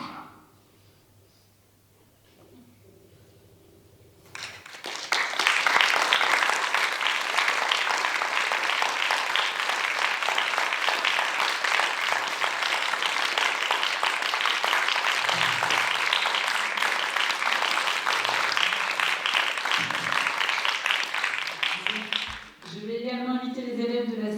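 After a quiet opening, an audience at a theatre-company reading breaks into loud, steady applause that holds for over fifteen seconds before fading, with a voice starting to speak as it ends.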